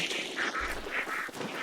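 Ducks in a video game quack in a steady run of short nasal calls, fairly close and alone with no talking.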